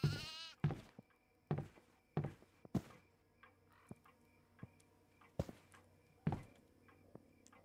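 A goat bleats repeatedly in the horror video game Devour, in an office downstairs, with sharp, loud bleats at irregular intervals over a quiet, eerie background and faint footsteps.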